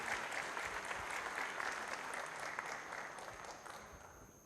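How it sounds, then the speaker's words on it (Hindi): Applause at a success-story event, a dense, steady wash of clapping from a gathered audience that gradually fades over a few seconds, with no talking. "पुनः तालियों के साथ अभिनंदन करें, आप सबसे निवेदन है।"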